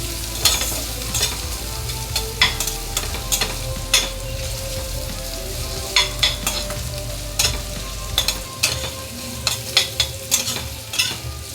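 Carrots sauté in a hot pan for fried rice, giving a steady close sizzle broken by repeated scraping stirs and clinks of a spatula against the pan, with no talking.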